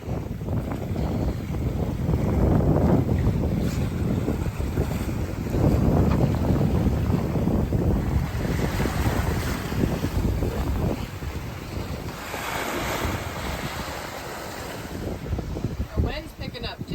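Strong wind buffets a sailboat running in roughly 22-knot winds and 5 to 6 foot seas between Half Moon Bay and Santa Cruz, a steady loud roar of gusts and water rushing past the hull across the whole stretch.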